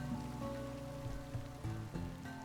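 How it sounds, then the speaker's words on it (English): Steady rain falls in the video game RimWorld, a dense continuous patter of drops on a surface at an even, fairly loud level, sounding alone without talk for a couple of seconds. "Good grief, could it not be raining?"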